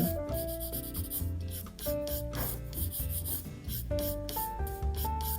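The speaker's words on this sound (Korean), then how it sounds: "원을 하나 그리시고" A pencil scratches and rubs across paper in short continuous strokes while drawing a circle, heard faintly beneath steady background music.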